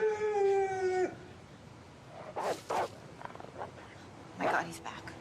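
A dog howls in a long wavering tone that breaks off, followed by short whines and bursts of rustling, with pauses of quiet between them in a dramatic television scene.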